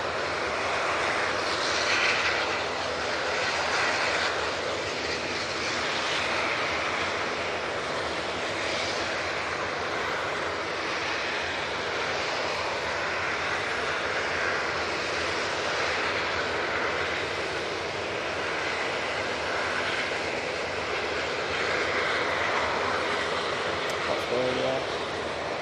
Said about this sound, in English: There's the very noisy prop.